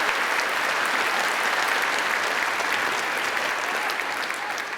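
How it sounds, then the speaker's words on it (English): Sustained audience applause at a Scotland university degree ceremony, a dense, even wash of many hands clapping that holds steady and fades slightly at the end. "I think they deserve a clap too"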